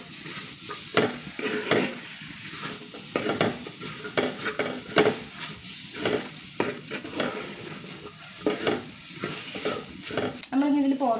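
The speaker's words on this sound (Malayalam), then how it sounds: "നന്നായി ഇളക്കി യോജിപ്പിച്ച് വെക്കാം കേട്ടോ" A spoon stirs and mixes a chopped ingredient through a sizzling frying pan, giving repeated scraping and clattering strokes in an irregular rhythm over a constant frying hiss, close by and with no talking.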